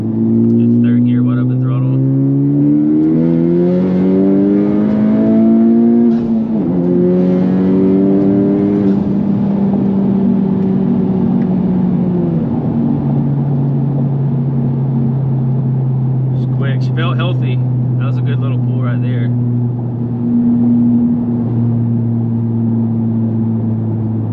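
A car running on E85 flex fuel accelerates along a road, its engine note climbing steadily in pitch through the gears, loud and close from inside the cabin, with a voice briefly heard over it.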